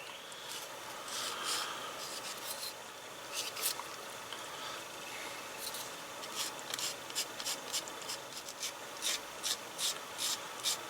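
A sanding stick gently works over the attachment points of a small 3D printed scale-model detail part, giving soft, dry rasping strokes in quick irregular bursts, close and quiet with no talking.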